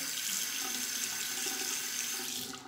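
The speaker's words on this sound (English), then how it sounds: "Rinse that one off." A razor being rinsed under a running tap, a steady rushing splash of water into a sink that holds evenly and tapers off at the very end, with no talking.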